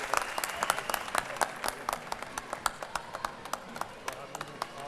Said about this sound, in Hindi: तालियां बजती रहनी चाहिए साहब।